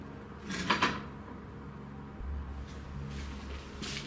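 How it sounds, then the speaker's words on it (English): A door in a former isolation hospital swings open with a brief, muffled creak and knock, followed by low, faint rumbling in an otherwise quiet space. "Door's just opened."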